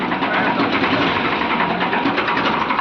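Farmtrac tractor engine revving hard at full throttle, a loud continuous dense roar with a steady rapid pulsing texture, close and unbroken, no voices.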